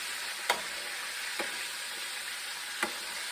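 Battered homemade fried chicken pieces turning golden in hot oil, a dense, steady close sizzle and crackle with three faint ticks from a solid metal slotted spoon, continuous and without speech.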